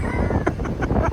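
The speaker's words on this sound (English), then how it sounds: "It has got really windy out of nowhere." Gusty wind buffets the microphone outdoors at Universal Studios Hollywood near construction, a loud rumbling roar with brief rustling bursts and no clear speech.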